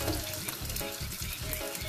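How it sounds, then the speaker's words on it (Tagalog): Garlic sautés in a pan for ginisang monggo, giving a steady, close sizzle and crackle. Soft stirring scrapes pulse through the sound throughout. "Magigisa na po tayo ng bawang."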